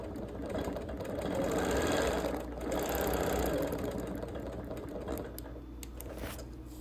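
A sewing machine runs continuously while free-motion quilting a star with petals, feathers and curls, a steady close whir with quick needle chatter and no talking.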